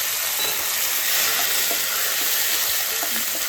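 Loud, steady sizzling of hot oil as curry leaves and green chilli hit a cumin and mustard seed tempering for pulihora, a continuous bright hiss with faint stirring clicks and no talk.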